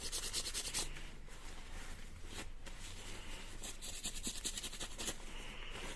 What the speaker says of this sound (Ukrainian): Чистимо піною для текстилю, абсолютно безпечною що немає запаху.